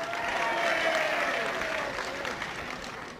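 Applause from the packed crowd at Chancellor Hall in Chelmsford for wrestlers Zoltan Boscik and Robby Baron, steady clapping at a moderate distance that peaks early and slowly fades, with a faint voice underneath.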